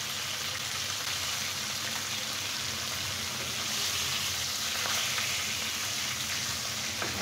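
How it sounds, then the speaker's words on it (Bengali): Fish frying in hot oil in a home kitchen, a steady bright sizzle with crackling spatters that holds evenly throughout, close and alone without talk. "আমার মাছগুলা ফ্রাই হয়ে গেছে"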